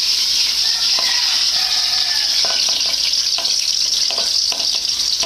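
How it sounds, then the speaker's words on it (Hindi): Onion, tomato and green chillies hissing in a hot pan for a quick brinjal dish, a loud, close, unbroken sizzle with occasional faint stirring scrapes underneath. "तो पहले हमने प्याज डाल दी"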